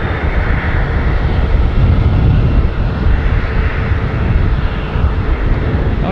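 A Boeing 767 jet takes off at an airport, a loud, sustained broadband engine roar that swells slightly midway and stays steady, with no voices.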